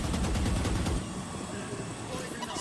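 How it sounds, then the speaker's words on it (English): Gunfight from the video game Valorant during a pro esports match, with a rapid burst of gunfire in the first second giving way to denser, quieter game noise. "IGL's battling, and the gun fight goes in favor of Boaster."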